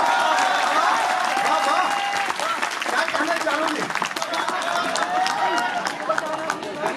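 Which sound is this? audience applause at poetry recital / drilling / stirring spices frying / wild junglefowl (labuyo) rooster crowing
audience applause at poetry recital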